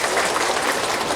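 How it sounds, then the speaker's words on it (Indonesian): An audience at a pengajian gathering in Bantardawa gives the event committee a brief burst of dense, steady clapping. "Sepisan maning tepuk tangan dulu buat panitia Bantar Dawa"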